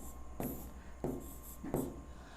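Marker or chalk strokes on a classroom board during a maths lesson, three short scratchy writing strokes at a steady pace over a quiet room hum.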